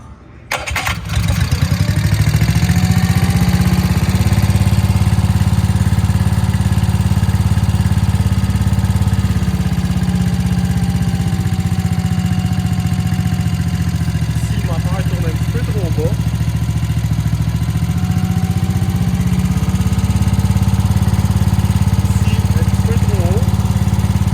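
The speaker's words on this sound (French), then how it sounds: "Je vais vous donner un petit exemple en démarrant le moteur." A Snoscoot ZR200 snow scooter engine starts with a quick burst, then runs steadily at a loud, buzzing idle for the rest of the clip, close up.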